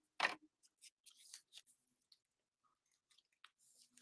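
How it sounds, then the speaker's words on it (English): Scissors cut a length of ribbon, a sharp close snip followed by several soft scattered clicks and rustles in an otherwise quiet room. "I'm just going to cut another length of ribbon."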